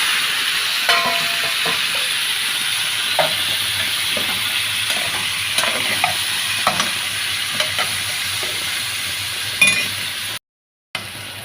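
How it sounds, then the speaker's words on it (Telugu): Cauliflower sizzling and frying in a pan of masala, with a steady hiss and repeated clinks of a spoon stirring against the pan, close and continuous. "ఇప్పుడైతే కాలీఫ్లవర్ అయితే వేసేస్తున్నాము."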